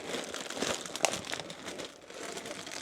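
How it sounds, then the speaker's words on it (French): Plastic packaging from a Vinted parcel crinkles and rustles close by as it is unwrapped, with a few sharper crackles amid continuous handling. "Je vais vous déballer le colis et je vous montre que c'est pas du fake."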